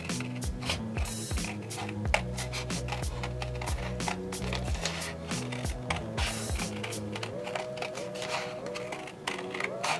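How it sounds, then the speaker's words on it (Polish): Scissors cut through natural leather while shaping a knife sheath, giving a close, steady series of crisp snipping and crunching clicks without speech. "Tak zgięty projekt po wyznaczonej linii wycinam nożyczkami."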